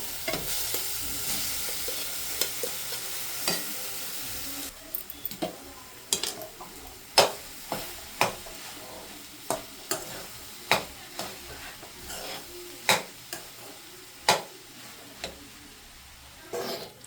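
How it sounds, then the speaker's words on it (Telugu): Rice stirred in hot oil in a pan, a spoon scraping and tapping in a steady rhythm over a constant sizzle, up close, with no voices. "ఇప్పుడు రైస్ కలుపుతాను."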